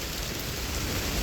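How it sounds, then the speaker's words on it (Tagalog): Heavy rain in Hong Kong pours down steadily, a dense, loud, unbroken hiss of drops on surfaces with no pauses and no voices. "ang lakas ng ulan"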